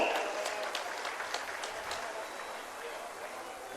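Applause at a government ceremony in Lohardaga where acceptance letters are handed out, a dense, moderately distant crowd clapping that swells at first and then settles, with a voice faint beneath it.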